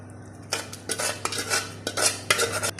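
Tempering of onion, garlic, mustard seeds and curry leaves is stirred into a bamboo-shoot curry in a metal pot, the spoon scraping and clinking against the sides in several short strokes with faint sizzling and no voices.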